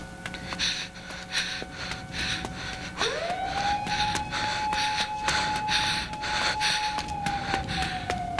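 An ambulance siren in a live-action Junji Ito horror film adaptation rises and holds a steady wail, over rhythmic, heavy, panting breaths that continue throughout.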